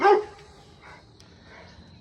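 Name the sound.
dogs barking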